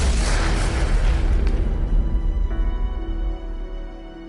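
A car engine explodes on a road, set off by an overheating engine: a loud, close boom with a broad rumbling burst that decays into a ringing, crackling tail.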